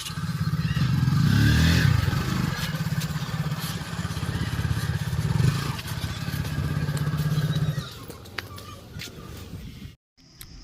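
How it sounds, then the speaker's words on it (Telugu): A motorcycle on a long road journey, its engine a steady, loud, close drone with rushing wind, easing off near the end and briefly cutting to near silence. "సో ఇంకా మా హస్బెండ్ బండి స్టార్ట్ చేశారు."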